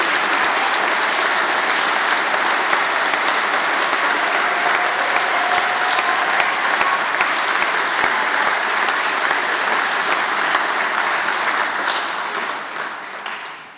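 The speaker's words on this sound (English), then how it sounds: "we might end with a little round of applause, or a big round of applause, for the Lionesses" Sustained, loud applause from a large crowd at a university graduation ceremony, steady throughout before fading out at the end.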